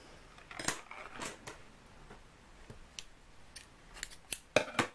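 Scissors cutting a piece of ribbon for a crochet project, with a few quiet close snips and metallic clicks of the blades spread irregularly across a quiet room.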